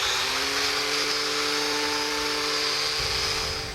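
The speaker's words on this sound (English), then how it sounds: "as far as sanding goes, I did a lot of grits" A steady, loud electric whir with a constant hum holds throughout, like a power sander running continuously close by on a live edge wood slab, with no talking.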